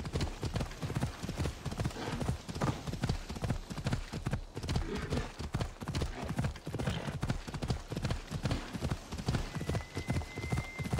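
Rhythmic clip-clop of a horse's hooves at a steady trot in Assassin's Creed Odyssey, continuous and fairly close, with a faint background ambience throughout.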